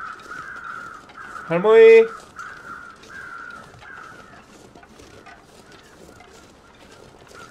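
Crows caw in the snowy wilderness survival game The Long Dark, a short burst of harsh calls rising above a steady wind-like ambience, with a voice calling out briefly alongside.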